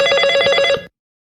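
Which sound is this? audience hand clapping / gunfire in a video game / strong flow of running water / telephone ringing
telephone ringing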